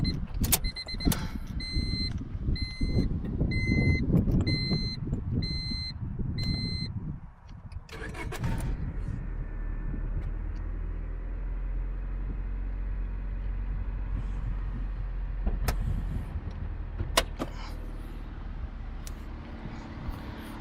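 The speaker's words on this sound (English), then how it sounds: "So the exhaust has a bit of a rattle to it." A rusty 2000 Honda Civic EX with a rattling exhaust: a chiming warning tone and cabin sounds come first, then the engine cranks and settles into a steady, low, fairly quiet idle rumble close by.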